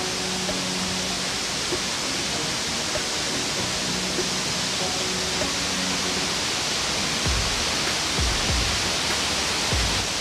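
Shiraito Falls in Japan, a broad waterfall of thin threadlike streams, pours in a steady, dense rushing roar that fills the scene without pause, with a few low thuds near the end.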